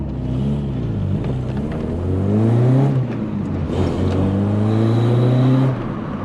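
VW Polo Coupe driving on the road after an engine reassembly, its engine droning and rising in pitch through gear changes as it accelerates, heard steadily from inside the car.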